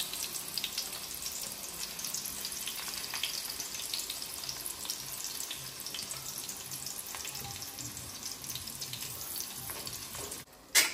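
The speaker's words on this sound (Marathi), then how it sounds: "चला आता असा एक एक करून सर्व फ्राय करून घेतो." Stuffed bitter gourds fry in a pan with a steady, dense sizzle that runs for several seconds, scattered with small pops and spatters, then cuts off abruptly at the end, with no voices.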